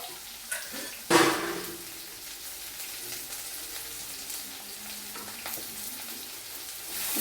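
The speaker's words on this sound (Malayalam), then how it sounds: "ഉപ്പും കൂടി ഇട്ട് ഇത് നല്ലതുപോലെ അങ്ങ് വഴറ്റുക" Green chilli rasam ingredients with salt sauté in a pan, giving a steady close sizzle with a couple of sharp clanks early on as the mix is stirred.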